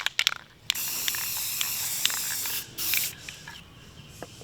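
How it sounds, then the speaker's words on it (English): A Rust-Oleum spray paint can sprays in a steady hissing blast, preceded by a few quick rattling clicks and followed by shorter bursts, close and moderately loud with no talking. "Got my can of Rust-Oleum. About to shake this sucker up and get busy painting."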